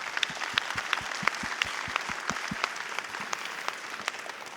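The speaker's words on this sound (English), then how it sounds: "So we need to give you a round of applause again for that." An audience at a NASA Artemis update event applauds with a mix of distinct individual claps and steady patter, moderately loud and continuous.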